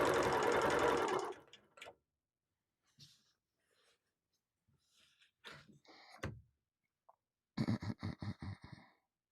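A sewing machine runs in a quick burst of stitching during ruler quilting of a panel, then falls silent apart from faint clicks and handling noises before a second short run of stitches near the end.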